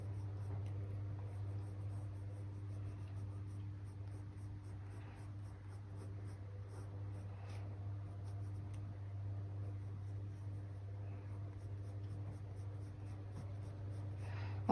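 A colored pencil shades the edges of a flamingo in a coloring book, a steady soft scratching that runs throughout over a constant low electrical hum, with no voices.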